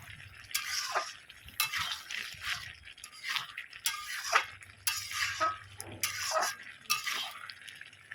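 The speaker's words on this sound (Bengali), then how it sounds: "দিয়ে আরও কিছুক্ষণ নাড়িয়ে চাড়িয়ে নেব" Mixed vegetable curry with ghee being stirred in a pan, a spoon scraping and clinking against the metal in repeated strokes about once a second, close and fairly quiet.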